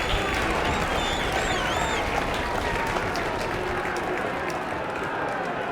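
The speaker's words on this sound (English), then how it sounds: "Clap, clap. Clap, clap, clap." Crowd applause in the game The Lion's Song, a steady dense clapping from many hands with a few faint whistles or cheers, sustained throughout at moderate loudness.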